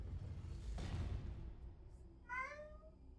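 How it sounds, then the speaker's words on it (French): A single short cat meow rises near the end, following a whooshing swell of ambient sound in the medieval fantasy game Fable III. "Oui, mon chat."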